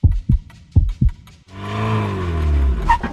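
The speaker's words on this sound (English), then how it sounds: "a car just pulled up." A delivery car pulls up outside with a rising, then steady engine rumble that fills the second half. Several heavy, heartbeat-like thumps come before it.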